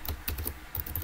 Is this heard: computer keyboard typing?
yes